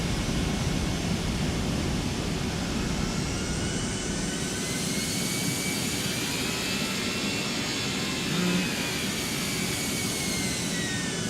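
A steady, loud jet engine roar comes from the CFM engines of a Toliss Airbus A320 in the X-Plane 12 flight simulator, a broad unbroken rush with a faint rising whine above it.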